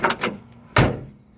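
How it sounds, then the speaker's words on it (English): Car door on a restored 1967 Camaro convertible shuts with a single solid thud, preceded by a couple of lighter knocks and rattles at close range, with no talking. "Oh, I didn't close that door all the way."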